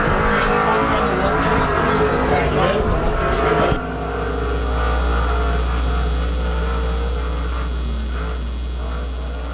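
IMCA stock car qualifying at Arizona Speedway: a steady, loud engine roar runs throughout, shifting to a lower droning hum partway as the car circles the track.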